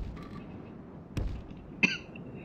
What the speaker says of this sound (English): this darn cough just won't go away